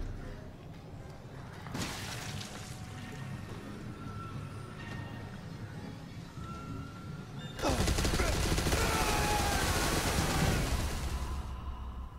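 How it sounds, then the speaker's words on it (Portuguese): Turrets fire in Resident Evil 7's Not a Hero DLC: a sharp burst near two seconds, then a dense, loud sustained volley from about eight seconds on, over a low game ambience. "Meu, tem três torretas ali na frente."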